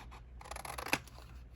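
Scissors snip through paper at an angle, a close, quiet run of small crunchy cuts ending in a sharper final snip, with no talk.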